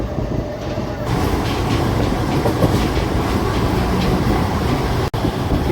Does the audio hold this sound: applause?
no